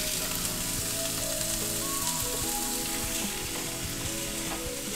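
Mixed vegetables frying in cooking oil in a pan, a steady, dense sizzle with crackling throughout, close and fairly loud, with scraping stirs and no voices.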